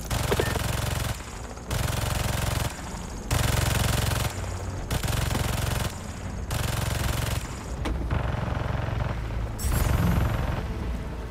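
Gun turret firing in the video game Marvel's Spider-Man 2: loud, close bursts of rapid automatic fire, each about a second long, alternating with short pauses in a steady rhythm.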